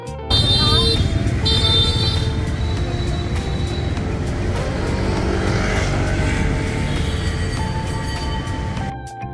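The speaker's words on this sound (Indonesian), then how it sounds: "setiap motor itu bunyiin klakson seperti ini" Loud, close city traffic in Hanoi, Vietnam rumbles continuously with motorbike engines revving, while short motorbike horn toots sound near the start and again toward the end.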